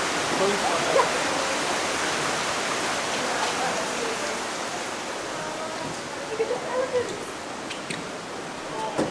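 Heavy rain pours steadily over a river in Borneo, a dense, even hiss that runs throughout with a few louder splashes and faint voices near the end.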